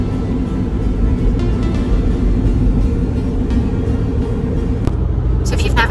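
Steady low engine and road rumble inside a car driving on roads in Dubai at sunset, continuous and close, with a brief faint high rattle near the end.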